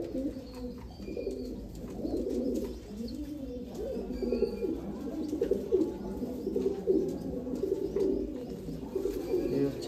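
Royal Teddy pigeons, also called KTM Teddy kabootar, coo continuously in overlapping low, throaty rolls from several birds nearby, with light rustling and a faint voice now and then.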